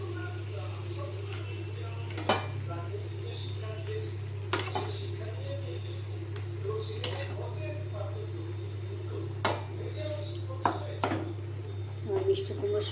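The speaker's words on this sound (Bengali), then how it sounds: "মিষ্টি কুমড়োর সঙ্গে আমি এটা মিশিয়ে নেব।" Ground chana dal being stirred into mashed pumpkin in a pan, with soft scraping and light clinks of a utensil against the pan at irregular moments under a steady low hum, while a person talks.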